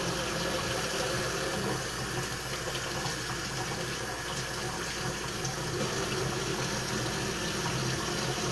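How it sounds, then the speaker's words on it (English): Tap water runs into a sink while potatoes are washed under it: a steady, fairly loud rush of water throughout, with a low hum underneath. "So I was trying to get the potatoes washed off"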